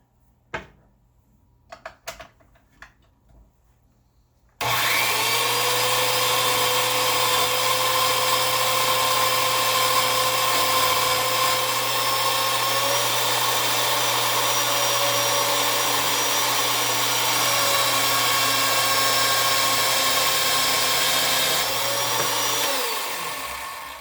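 A steady, loud drill motor whine, run in reverse spinning a polishing wheel on a Taurus G3 pistol barrel, runs continuously for about twenty seconds after a few quiet clicks and taps, holding an even pitch before dropping slightly near the end.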